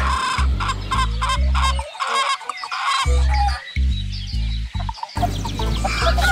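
Chickens cluck repeatedly in a farmyard scene from a children's story, the bursts of clucking close, loud and continuous, with no one talking.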